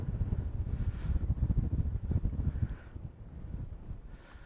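Gusting wind buffets the microphone at a lakeside carp-fishing spot, producing a steady low rumble that swells and fades over several seconds with no talk.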